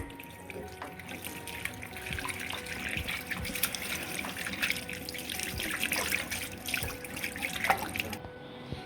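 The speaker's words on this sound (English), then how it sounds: "Now let's wash his hands." Hands are washed under a running tap in a school setting: a quiet, continuous trickle and splash of water that persists for nearly nine seconds before cutting off.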